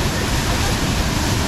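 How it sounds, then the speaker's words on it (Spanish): A waterfall pours into a natural pool at Posa El Callejonon in Cantón Pacayas, La Laguna, Chalatenango, El Salvador, making a steady, dense rushing roar that stays close and even throughout. "Ahí está la cascada, miren."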